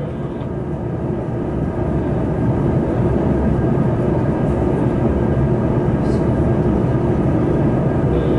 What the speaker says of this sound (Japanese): 快速マリンライナー47号高松行き発車します。